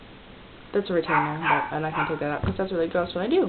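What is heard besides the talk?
dog barking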